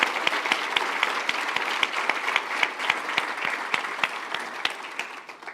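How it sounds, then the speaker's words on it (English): An audience at a chamber forum on regional transit applauds its panelists, a dense sustained round of clapping from a full room that tapers off near the end. "let's give a round of applause to our panelists for their great ideas"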